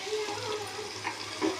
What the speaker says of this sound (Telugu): అప్పుడు కొద్దిగా వాటర్ వేసుకున్నాం.